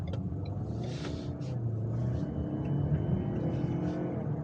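A 2020 Ford Edge Titanium accelerating hard from inside the cabin, a steady loud engine rumble and road roar that holds throughout without a break.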